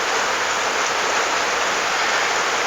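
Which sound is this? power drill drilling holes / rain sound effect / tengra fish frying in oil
rain sound effect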